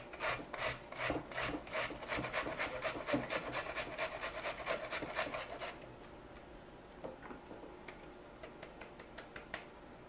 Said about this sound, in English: we're going to grate this cauliflower down